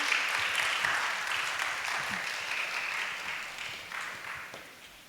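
Sustained applause from an audience at a church youth joint worship service as the YSP district president steps forward, a dense even clapping wash that holds steady and slowly fades toward the end.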